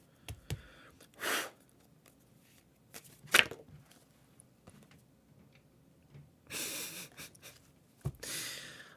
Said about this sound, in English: I don't like messy shuffling